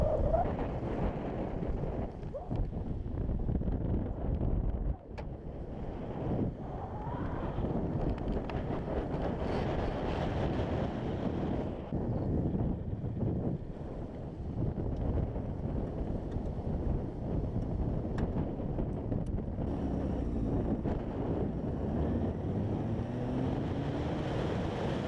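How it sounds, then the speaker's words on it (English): Strong wind buffets the microphone at a lakeside spot, a steady broadband roar with gusts that hold throughout, near and loud, with no talking. "See how windy it is."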